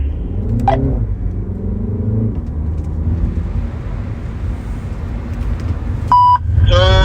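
A car pulling away from a stop during a driving lesson, its engine rumbling steadily up close with a brief rise in revs at the start, followed by a short electronic beep near the end.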